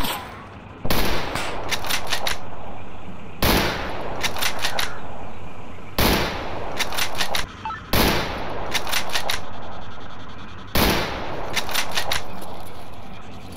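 Bursts of automatic gunfire in a S.T.A.L.K.E.R. firefight, loud and close, coming in repeated rattling volleys of rapid shots separated by short pauses.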